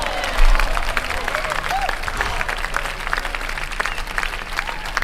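A small group claps and cheers indoors, lively close applause with scattered whoops and voices mixed in, steady across the moment.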